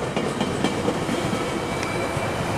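A Coaster commuter train rolls through Sorrento Valley late at night, its steady rumble and faint wheel clatter filling the scene at a moderate distance, a continuous wash of rail noise with a light high squeal and no voices.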